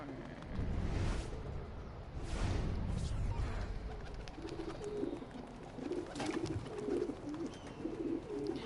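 A pigeon coos repeatedly in a low, rhythmic pattern within the Assassin's Creed game world, set against a steady ambient bed with a few louder broadband swells.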